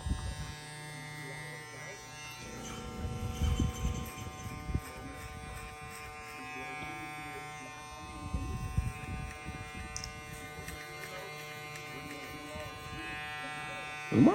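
A Golden Gun electric hair clipper hums steadily throughout, its buzz thickening in louder bursts as it cuts through hair with a 1.5 guard, close and continuous with no talk.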